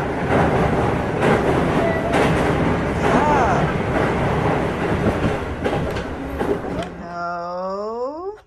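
A train rumbles and clatters steadily nearby, with brief voices speaking over it, before a descending electronic chime sounds at the end.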